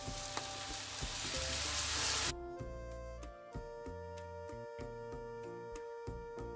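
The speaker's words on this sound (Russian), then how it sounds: "В разогретую сковородку наливаем растительное масло и тушим сперва морковку." Carrots and tomatoes frying in vegetable oil in a heated pan, a steady close sizzle that drops to a quieter crackle partway through, with no talk.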